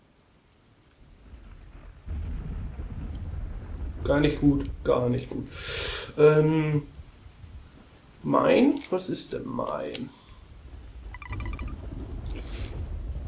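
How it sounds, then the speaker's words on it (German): Rain and rolling thunder from a thunderstorm in the game Garry's Mod, a steady wash of rainfall with low rumbles running underneath while someone talks over it in bursts. "Machen wir mal Thunderstorm."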